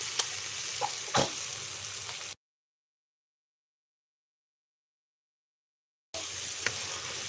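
Onion poha with turmeric and salt sautés in a pan, a steady close sizzle with stirring clicks, broken by a long silent gap before the frying resumes.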